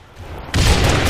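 Rocket launcher explosion in Halo: Reach Team Slayer, a sudden loud booming blast after a quiet moment, with a rumbling tail.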